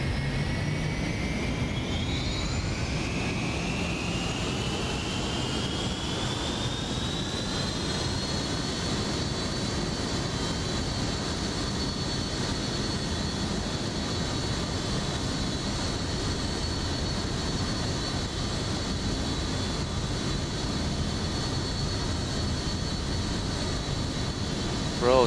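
Embraer ERJ-135 jet engines spooling up in the X-Plane flight simulator, a steady loud turbine whine rising in pitch over the first several seconds and then holding a sustained high tone above a continuous rumbling roar.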